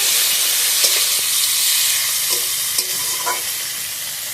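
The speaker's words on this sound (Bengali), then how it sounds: "পেঁয়াজ আর টমেটো একসাথে ভালোভাবে ভেজে নেব।" Onion and firm storage tomato fry together in a pan, giving a loud, continuous hissing sizzle up close with faint stirring knocks throughout.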